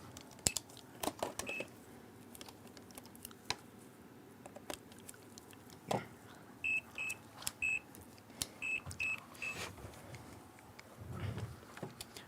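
A multimeter emits short electronic beeps in irregular bursts while someone works on an EM3EV battery pack with Samsung 35E cells. Clicks and light handling noises sit among the beeps, with no talk.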